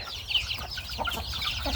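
Thai native chickens cluck and chatter nearby in a backyard flock, with several overlapping short calls and soft background noise.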